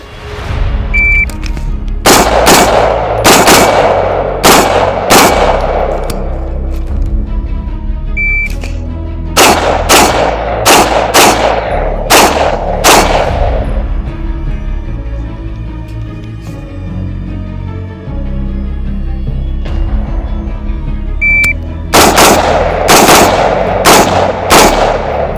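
Pistol gunshots on a shooting range during a timed drill from the high ready, loud sharp reports fired in quick bursts of several shots, separated by pauses, with a short timer beep before each string.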